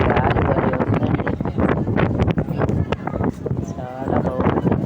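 Strong sea wind on a ship deck buffets the microphone in loud gusty bursts and rumbles, near and continuous, while people talk over it.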